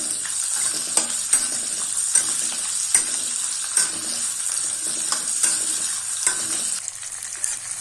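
Chopped onions frying in a pan for a spicy mutton curry, a steady close sizzle broken by regular scrapes and clinks of stirring, with no voices.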